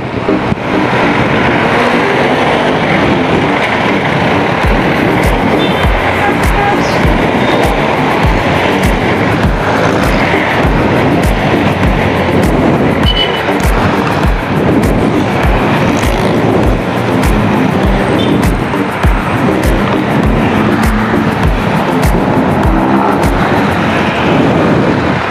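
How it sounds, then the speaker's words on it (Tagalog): Steady, loud road traffic and wind rush from a moving Honda PCX 160 motorcycle, a constant broadband roar without pauses. "Traffic."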